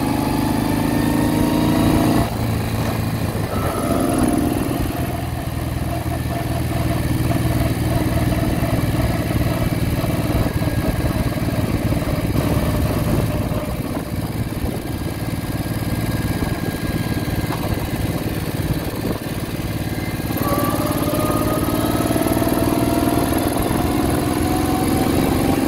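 A 1968 Moto Guzzi V7 700 motorcycle with freshly sleeved cylinders, its engine running steadily and loudly at close range for about twenty-five seconds, with a rev change near the start and again toward the end.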